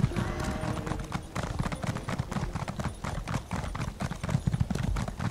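Steady clip-clop of horse hooves as a mount is ridden in The Elder Scrolls Online, a fairly rapid even rhythm filling the whole stretch, moderately loud over faint game ambience.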